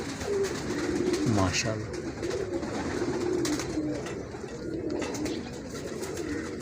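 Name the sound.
pigeons cooing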